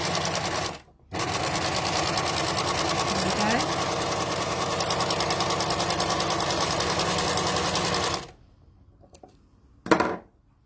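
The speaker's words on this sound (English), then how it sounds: "that's the rolled hem, the 3-thread rolled hem on the overlocker" An overlocker stitching a 3-thread rolled hem on silk, a loud, steady rapid mechanical whir running for about eight seconds, then stopping, followed by a brief burst of the machine again.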